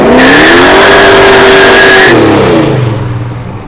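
Toyota GR Corolla turbocharged three-cylinder engine revving loud and close, holding a steady high rev for about two seconds before falling away to a lower, fading idle.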